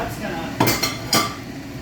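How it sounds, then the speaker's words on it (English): Fresh gluten-free pasta dropped into a pot of cooking sauce on a stove, giving two close, loud clattering splashes with a metallic pot knock, followed by a quieter kitchen background. "So I'm throwing in my pasta like that."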